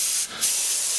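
A spray can mists basecoat paint onto a miniature model, a close, loud continuous hiss with a brief dip and then resumes steadily.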